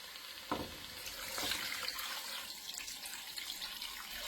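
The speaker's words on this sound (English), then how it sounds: "We're going to add the chicken broth and water." Chicken broth and water are poured into a pot of oxtail stew, giving a faint, continuous rushing splash with a couple of slightly louder spurts near the start.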